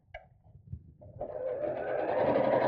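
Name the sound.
sewing machine stitching a craft bag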